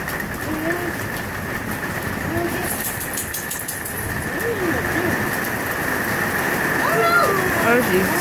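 Steady rain patters on a surface during a thunderstorm, a dense continuous hiss that gradually grows heavier, with a few faint bird calls in the background.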